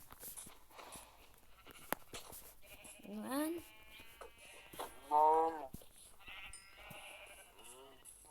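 Sheep bleat several times in Minecraft, wavering cries rising over someone talking and scattered clicks.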